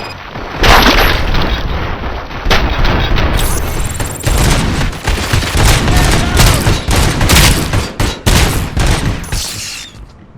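Gunfire in a shootout in the video game RoboCop: Rogue City, with dense bursts of rapid shots and booming blasts going almost nonstop, loud and close, under a bit of voice.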